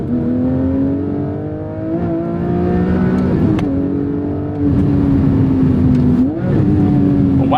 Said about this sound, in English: Over blipping it on the revs with the downshift